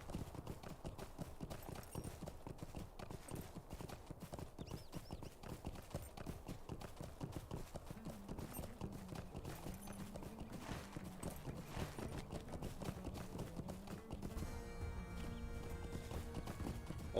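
Horse hooves clip-clop in a steady, rapid rhythm throughout as a rider travels in the video game Lord of the Rings Online, with faint music underneath and a brief shift in texture near the end.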